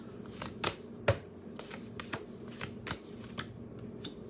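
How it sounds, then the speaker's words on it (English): A deck of tarot cards is shuffled by hand, a run of soft riffling flicks and snapping card edges in irregular bursts, close and fairly quiet with no talking. "There's a whole little pile of cards that fell out while I was shuffling"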